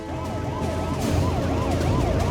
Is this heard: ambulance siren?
yes